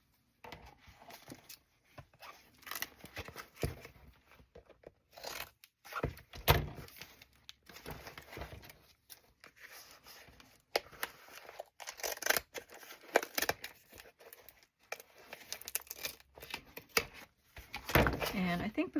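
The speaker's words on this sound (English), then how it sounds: "So I think the best thing to do would be to just cut this off." Scissors cut through the binding of an old journal in irregular bursts of snipping and crunching paper, close and fairly quiet, with pauses and handling noise between cuts and a person speaking at times.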